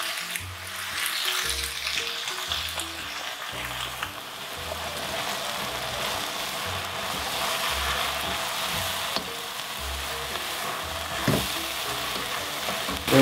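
Sauce sizzles steadily in a hot pan with beef chow mein, a continuous bright frying hiss with soft stirring and clinks throughout, no talking.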